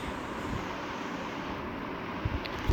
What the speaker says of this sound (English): this is, we land the airplane